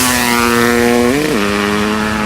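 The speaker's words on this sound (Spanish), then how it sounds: "Número 3, Honda CR500, la motosierra del infierno." A Honda CR500 two-stroke motocross motorcycle engine holding a loud, steady buzzing drone up close, with a brief dip and rise in pitch midway before settling back to an even tone.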